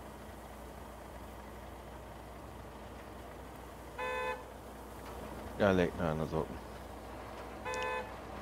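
A vehicle horn honks in the Bau Simulator construction game at an airfield site, a short tone followed by a longer, wavering blast and another brief toot, over steady engine hum, with someone talking in between.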